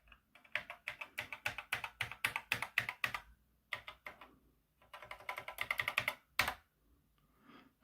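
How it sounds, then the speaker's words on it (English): Keys on an Acorn Electron home computer keyboard are pressed in quick clattering bursts, with brief pauses between runs and a single firm keystroke near the end, close and fairly quiet. "Now I guess we'll test the keyboard."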